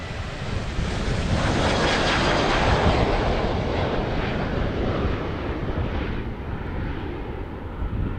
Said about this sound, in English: as we watch this KLM head for Glasgow